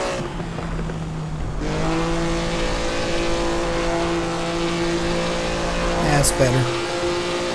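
A 1950s Maserati 250F Formula One car at Monza in Assetto Corsa, its engine a loud, steady, high-revving drone that climbs in pitch, with a sharp shift-like burst near the end and a brief spoken remark.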